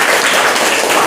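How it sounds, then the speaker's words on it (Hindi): Schoolchildren applauding together in a classroom in Bihar, a dense, steady burst of clapping heard up close and filling the whole short moment. "इसके लिए ताली बजाइए"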